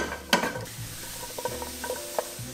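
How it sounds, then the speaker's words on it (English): Mushrooms stirred in a dry pan without oil, with a faint background hiss under a spatula's scraping and a few light clicks and knocks against the metal. "Stirring them."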